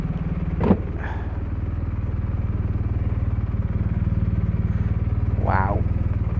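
A BMW R1250RS motorcycle engine runs at a steady, close idle while the bike is edged into a back garden, with a couple of brief vocal sounds over the even throb.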